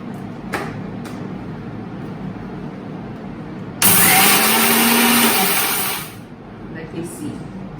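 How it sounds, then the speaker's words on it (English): A mixie coarsely grinds dhaniya, jeera and adrak in one loud burst of whirring motor noise lasting about two seconds, then winds down, with talking before it. "Now throw it in the mixie."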